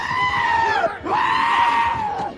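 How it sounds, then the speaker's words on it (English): Goats bleat loudly and close, two long wavering cries one after another with a brief break between them. "Oh man, here comes the goats."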